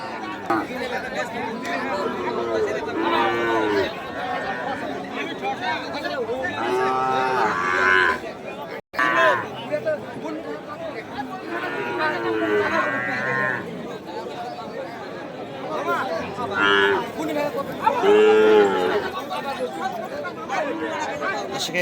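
Sahiwal calves and cattle at a Monday livestock market low repeatedly and loudly, long moos rising one after another over a steady murmur of crowd chatter and bargaining voices.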